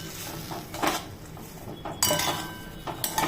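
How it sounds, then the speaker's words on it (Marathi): Moong dal dry-roasting on a low flame while a metal spoon stirs it in the pan, giving a few sharp scraping clinks at intervals over a soft steady background, with no voices. "आता इथे ना मी ही डाळ आहे ना भाजायला ठेवते"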